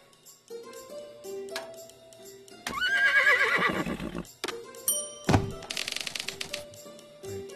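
Horse in a VR game whinnies loudly twice, each neigh a shrill rising-and-falling squeal, set among quick game sound effects, clacking typewriter-like taps and short musical tones.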